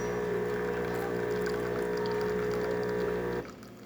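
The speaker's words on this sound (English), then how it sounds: "Excellent flow coming out of the machine." DeLonghi Magnifica espresso machine extracting coffee, a steady loud pump hum with a liquid pouring hiss, close and continuous, then cutting off near the end.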